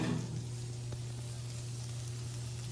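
Potato steak sizzles on a freshly broken-in grill with a little fire still burning below, a steady hiss with a low hum beneath, slightly louder at the very start and then even and close.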